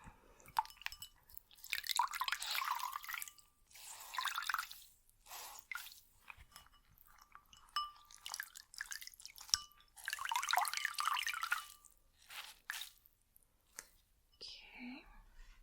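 A towel being wetted and squeezed so water drips, soft squishing and dribbling in close, quiet bursts, with whispering between them.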